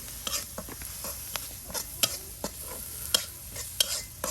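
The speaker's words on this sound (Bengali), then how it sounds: "এই যে সব কিছু দিয়ে আপনার তেলের সাথে ভাজি ভাজি করে নেওয়া হচ্ছে" Spices including turmeric powder fry in oil with a continuous sizzle, overlaid by repeated sharp clacks and scrapes of a spatula stirring at an uneven rhythm close by.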